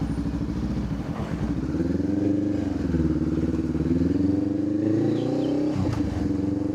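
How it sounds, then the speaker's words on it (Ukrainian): A Honda CBR 500R sport bike engine idles, then its pitch rises steadily as it revs and pulls away on Bali. The engine stays loud and close throughout. "Нажимаємо тут старт, тут заводимось."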